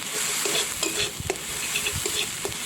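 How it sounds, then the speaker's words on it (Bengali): Spice paste of ground cumin, coriander and garam masala sautéing in a pan with a splash of water: a steady soft sizzle broken by repeated scraping stirs of a spoon, close and moderately loud, with no voices. "একটুখানি জল দিয়ে দেবো, ভালো করে কষিয়ে নেবো"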